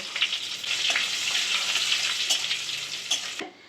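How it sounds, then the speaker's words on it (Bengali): Dried red chillies, bay leaf and cumin seeds crackle and sizzle in hot oil in a pan, a continuous close frying hiss with occasional sharp pops and a few stirring scrapes before it cuts off. "দুটো শুকনো লঙ্কা দিচ্ছি তেজপাতা সাদা জিরে মশলাটা একটু ভেজে নেব"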